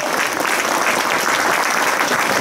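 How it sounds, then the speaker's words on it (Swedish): Dense, loud applause from the audience at a symphony orchestra concert of video game and movie music, continuous clapping throughout. "en varm applåd för nästa."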